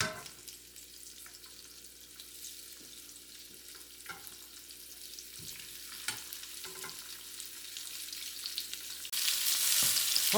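Shrimp fry in hot oil with a soft, steady sizzle and a few scattered pops and taps nearby. The sound swells into a louder hiss near the end. No voices.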